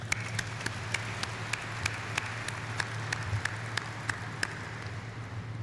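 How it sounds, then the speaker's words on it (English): An audience at a military ceremony in a hangar applauds, a dense steady wash of many hands clapping that holds at an even level throughout, with a few sharper claps standing out. "Let's give them a round of applause, please."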